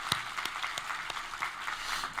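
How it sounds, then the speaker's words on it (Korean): A church congregation claps in praise during a worship service, soft and distant applause with occasional sharper individual claps standing out. "우리 하나님께 감사와 영광의 박수를 드리겠습니다"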